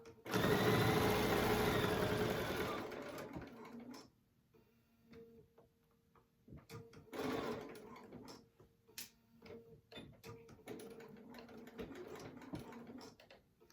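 Sewing machine stitching a fabric crochet needle case, a loud steady mechanical run at first, then shorter bursts of stitching with pauses and small clicks, close by.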